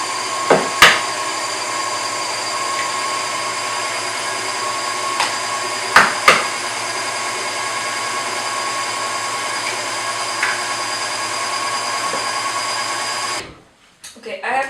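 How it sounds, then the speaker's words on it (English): An electric mixer with a whisk attachment whips butter with eggs for a chocolate cake in a steady, continuous whir, punctuated by a few sharp knocks before it cuts off near the end. "Attached whisk, and I continue whipping the butter"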